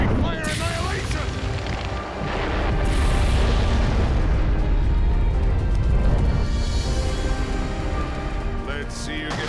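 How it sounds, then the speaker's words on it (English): A fire-style jutsu from Naruto Shippuden Ultimate Ninja Storm 3 erupts as a loud, sustained roaring blast that swells and rumbles for several seconds, with character voices shouting over the start and end. "Fire style, great fire annihilation!"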